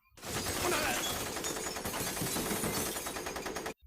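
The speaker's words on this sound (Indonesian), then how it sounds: "Hyobu langsung menghujani tembakan ke sekitarnya." A rapid, sustained burst of automatic gunfire from a weapon seized from an officer, loud and continuous for a few seconds before cutting off abruptly.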